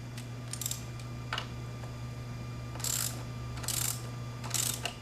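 A ratchet backs out the bolts on a Kawasaki Z125's rear shock, which is being swapped for an Ohlins KA610. Several short, bright bursts of ratcheting clicks come in spaced groups over a steady low hum, fairly close and without talk.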